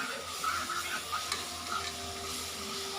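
Ginger garlic paste and green chilies fry in a pan for chicken biryani, giving a steady, even sizzle with faint stirring scrapes and a light hum underneath, close but quiet, with no speech.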